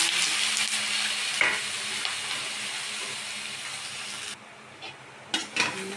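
Squash, shrimp and long beans are stirred in a sizzling pan for a home-cooked coconut-milk dish: a steady frying hiss with scraping stirs and a few sharp utensil clinks near the end.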